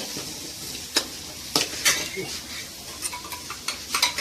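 Crispy ingredients being stir-fried in a pan, with faint sizzling under repeated scraping and clinking of a utensil against the pan at an irregular pace.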